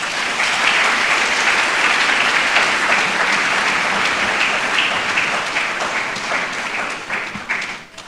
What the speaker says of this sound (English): So shall we give another round of applause?